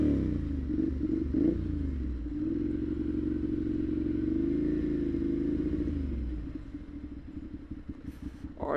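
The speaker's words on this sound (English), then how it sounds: "Nice engine brake." A Ducati Monster 696 motorcycle decelerates under engine braking, its low engine drone dropping in pitch and fading into a lumpy, burbling idle-like rumble, heard close and fairly loud.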